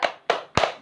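Three sharp, evenly spaced claps from children in a primary classroom doing a thumbs-up clapping routine, close and crisp with brief decays between them.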